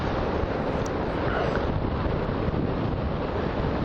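Strong wind blasts across an open microphone over choppy water with whitecaps, a loud, continuous broadband roar with gusty buffeting and no talking.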